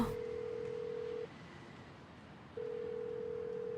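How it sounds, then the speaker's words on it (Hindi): A steady electronic phone ring tone plays, falls silent for over a second, then starts again, moderately quiet. "जल्दी से फोन उठाओ सना।"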